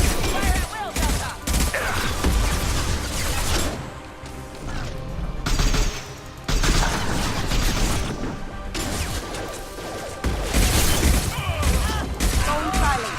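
A squad trades heavy gunfire in the Mass Effect 2 video game, with loud, dense volleys and crashing impacts in repeated bursts separated by brief lulls.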